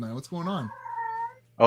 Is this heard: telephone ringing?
no